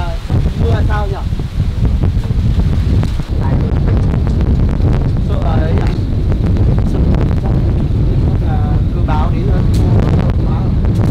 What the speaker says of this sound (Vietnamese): Đây rộng gió to lắm nhở.